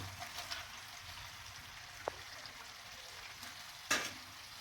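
Onions and tomato sizzle quietly in a pan with a few sharp scraping knocks of a spoon stirring, no one speaking, while cooking mutton sukka.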